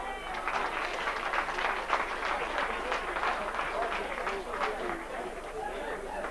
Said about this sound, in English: I think we could have a round of applause for all the 42 award winners tonight